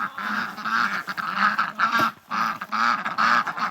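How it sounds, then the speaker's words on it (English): A flock of farm ducks quacks loudly and close by in rapid repeated bursts, the calls overlapping with only brief gaps. "I don't know if you can hear me over the ducks"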